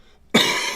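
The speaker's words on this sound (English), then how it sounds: "Sorry if I cough in you guys' ears." After a brief near-silence, one sharp cough bursts out close and loud, trailing into a rough breathy rasp.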